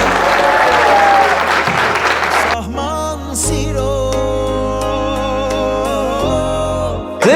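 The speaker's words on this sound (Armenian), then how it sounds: "ծափեր տվեք թող ոգևորվի մեր փեսան" Guests at an engagement celebration clap loudly for the groom in a dense burst of applause. It fades after a few seconds as tuneful music with a steady bass takes over.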